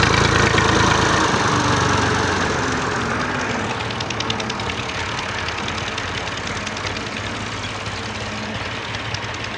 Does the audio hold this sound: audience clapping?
no